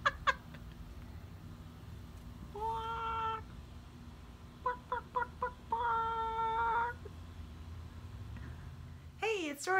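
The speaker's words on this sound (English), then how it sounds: "That's random chicken in the front yard over there." A chicken in a rural front yard gives several short bursts of clucking, separated by pauses and fairly close, with faint low background noise between the calls.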